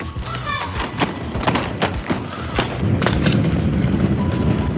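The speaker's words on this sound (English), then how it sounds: "Suitcases are really noisy on the pavement" Hard suitcase wheels rumble and clatter over rough pavement close by, with rhythmic thumps from joints or bumps and a rising rolling roar near the end.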